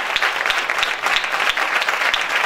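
An audience bursts into sustained applause to welcome Reverend Otis Moss, a dense, steady wash of clapping with no voices over it.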